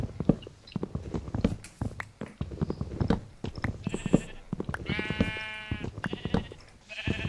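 Sheep bleat in the Minecraft video game, two wavering game bleats near the end, amid a steady run of clicky footsteps and block sounds.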